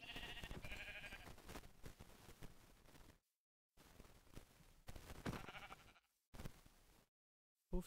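Sheep in Minecraft 1.20.4 let out a few loud, wavering bleats, one cluster at the start and another midway, separated by brief stretches of silence.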